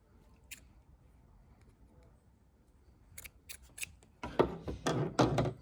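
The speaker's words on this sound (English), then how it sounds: "I'm going to repeat the same process of cutting 2 loops to create a tail." Scissors snipping through yarn loops while making a Bernat Alize scarf, a few crisp close cuts followed by louder rustling and handling of the yarn.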